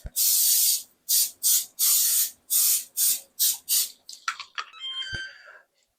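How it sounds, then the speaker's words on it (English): A can of cooking spray sprays onto cookie sheets in about eight short hissing bursts with brief pauses, followed by a few quieter sputters and a faint metallic clink at the end. "now we're gonna go ahead and spray our cookie sheets"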